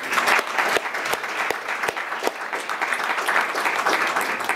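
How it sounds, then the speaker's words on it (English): An audience claps warmly for advisory cabinet members and mentors, a full, even round of applause with crisp individual claps standing out up close. "we'd like to give you a round of applause as well"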